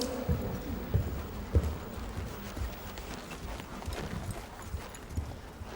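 A horse under saddle moves in a working trot during a dressage test, its hooves landing in a steady, soft rhythmic clip-clop on an arena surface, moderately close, with faint background ambience.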